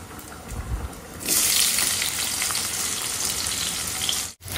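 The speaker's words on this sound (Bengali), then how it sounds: "পেঁয়াজটা ভাজা হয়ে গেছে" Onions frying in a pan: a quiet start, then a sudden loud, hissing sizzle that holds steady until a brief cut near the end, close and with no speech.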